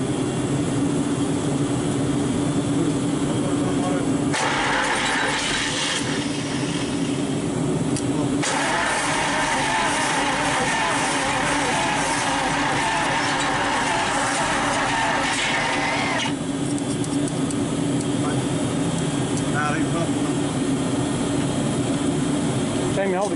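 A 1941 Cadillac flathead V8 cranks and fires for the first time, its loud broadband roar rising and falling in bursts over a steady engine drone, with people talking nearby.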